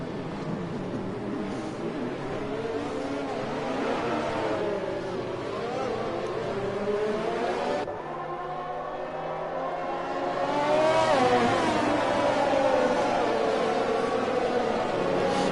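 F9-class race cars lap the Japan circuit in a PlayStation racing game, their engines droning and revving steadily on tyres worn over six laps under a safety car. The engine noise runs continuously under commentary.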